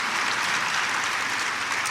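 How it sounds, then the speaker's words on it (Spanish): A church congregation applauds during a sermon, producing a thick, even roar of many hands clapping at once that holds at full strength for the whole two seconds. "Denle un aplauso al Señor si usted cree eso."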